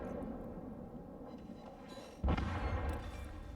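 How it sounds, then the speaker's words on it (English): The USS Kansas in World of Warships fires a full salvo from its twelve 16-inch guns: a single heavy, deep boom partway through over a low, rumbling game background, fairly quiet overall. "I'm going to fire a full salvo at it"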